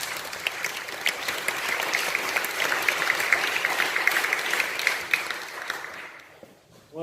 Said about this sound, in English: Round of applause for our speaker,